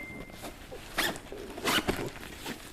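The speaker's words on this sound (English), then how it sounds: "grab the zipper, zip it shut" Zipper being zipped shut on a small document folder, a few quick close zipping strokes in short bursts, quiet and alone.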